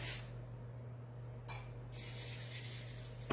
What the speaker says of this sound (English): Give it a little non-stick spray.